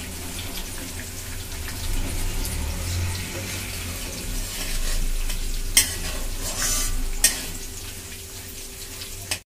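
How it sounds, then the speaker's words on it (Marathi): Peanuts sizzle steadily in hot oil in a pan while being cooked for Nagpur-style tari poha, with a constant close frying hiss broken by a few sharp clinks of a spoon against the pan. "हे बघा आता शेंगदाणे पण छान त्याच्यात फ्राय करून घ्यायचे."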